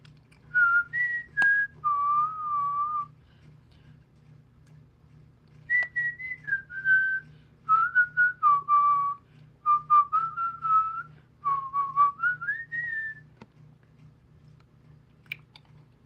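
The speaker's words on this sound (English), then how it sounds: "whistling isn't weird" A person whistling a short melodic tune in several phrases separated by pauses, clear and close in a quiet room over a low steady hum.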